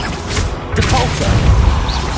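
A spell being cast in Hogwarts Legacy, heard as a loud, sustained magical blast with booming, crackling energy over a raised voice.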